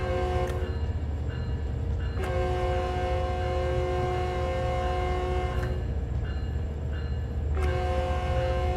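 A train horn sounds from a locomotive in Train Sim World 4, with several sustained multi-tone blasts of a few seconds each over a steady rumbling engine and track noise.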